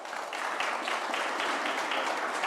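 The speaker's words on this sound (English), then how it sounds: "Another round of applause for that" Applause from a lecture audience, a dense, even wash of many hands clapping at moderate volume with no voices, lasting the whole stretch.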